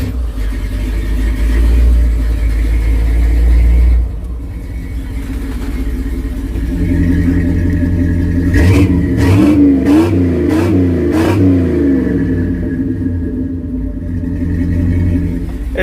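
A car engine with a Flowmaster exhaust idles with a deep exhaust rumble, then is revved several times in quick bursts that rise and fall, loud and close.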